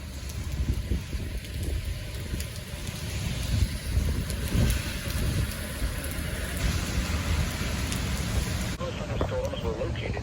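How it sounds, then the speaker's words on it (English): Heavy rain and gusting wind roar steadily around a vehicle during a storm chase, with rumbling thunder mixed into the dense, constant wash of noise and muffled voices beneath it. "the storm passed"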